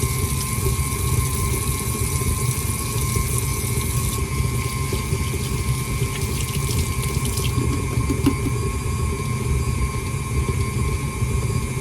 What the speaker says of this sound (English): Oh, wash my hands.